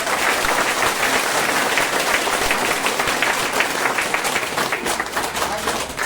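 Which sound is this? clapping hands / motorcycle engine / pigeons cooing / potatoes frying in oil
clapping hands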